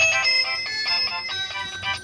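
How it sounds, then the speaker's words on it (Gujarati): A mobile phone ringtone plays a bright, repeating electronic melody in steady pulses, close and clear throughout with no talking over it. "ફોન આવી ગયો 1 મિનિટ."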